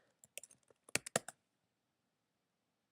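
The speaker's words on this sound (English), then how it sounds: "And I'm going to type." Short burst of close computer-keyboard typing, a quick run of sharp key clicks with a few louder strokes near the middle, then silence and one final tap.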